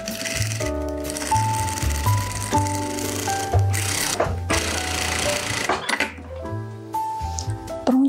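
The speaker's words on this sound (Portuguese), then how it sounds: "Agora a gente vai passar a costura no matelassado." A sewing machine stitches quilted fabric for a Christmas bread basket craft, its motor humming and whining steadily up close with shifting pitch and brief stops between runs.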